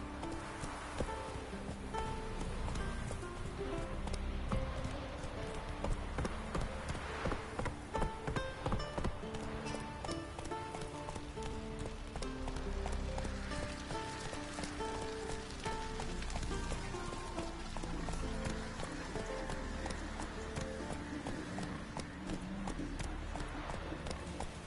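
Roach the horse galloping in The Witcher 3, a steady rhythmic drum of hooves held low under a continuous soft wash of ambient noise.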